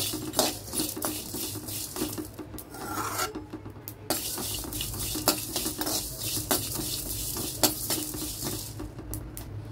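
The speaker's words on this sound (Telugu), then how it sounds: "నువ్వులు జస్ట్ కొంచెం వేగిపోతే సరిపోతుంది" Sesame seeds roasting dry in a pan while being stirred, producing a dense, rasping scrape with rapid gritty scratches and light metallic clinks, steady and close.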